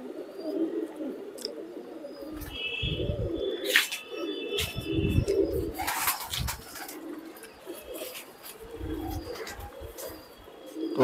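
Caged breeder pigeons coo in soft, repeated low throbbing phrases that rise and fall, with occasional wing flutters and sharp chirps.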